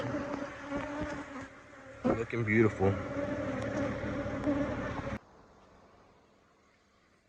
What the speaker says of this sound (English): So healthy colony of bees